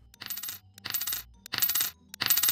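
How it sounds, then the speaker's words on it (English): Coin collect sound effect in an indie video game: four bright, jingling metallic chimes in quick succession with short gaps between them, crisp and close, with no talking. "And then I also added the coin collect sound effect to that."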